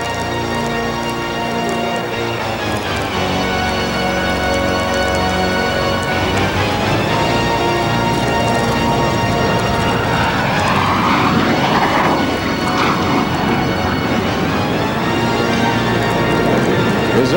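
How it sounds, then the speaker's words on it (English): An F-117A Stealth Fighter makes a pass at the 1994 Wings of Eagles airshow, its loud jet roar building steadily and swelling with a sweeping whine as it passes close, then holding as a continuous rumble. "here it comes for you at the Wings of Eagles, the F-117A Stealth Fighter"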